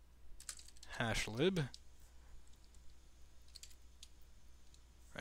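Computer keyboard typing, a short run of soft clicks and taps around a brief spoken word, with faint scattered key clicks afterward in a quiet room.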